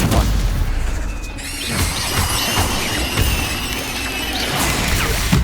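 Stupefy spell impacts in the Hogwarts Legacy video game burst out as loud crashing booms and whooshes, several hits in quick succession over dense game effects, with no talking.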